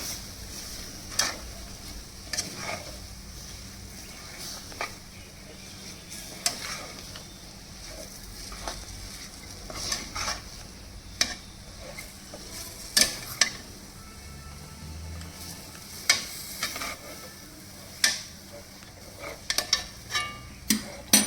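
Gulab jamun mixture being stirred in a pan, a long run of irregular scraping and tapping strokes of a spoon against the pan over a faint background hiss, close and unaccompanied by talk.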